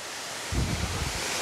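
Water rushing at a waterfall, a steady broadband wash that swells louder about a third of the way in and keeps surging with a low rumble beneath.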